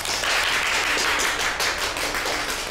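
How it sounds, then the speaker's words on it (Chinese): Hospital staff applaud at a promotion announcement, a dense, steady patter of many hands clapping together at moderate loudness throughout, with no voices over it. "鼓掌。"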